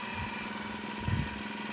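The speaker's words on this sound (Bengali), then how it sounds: "এই দেখো গাড়ি স্টার্ট করে দিচ্ছি" A long-used car engine runs after repair, idling with a low, steady hum and faint vibration and one slightly louder throb partway through.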